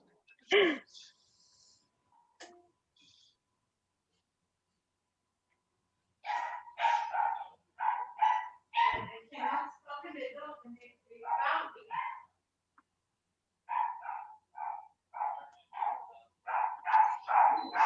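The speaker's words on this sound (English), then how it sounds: "all the dogs seem to be ready to start. They're all barking" Several dogs bark in bursts, with a sharp yelp near the start, then long runs of repeated barks after a quiet stretch, fairly close and loud.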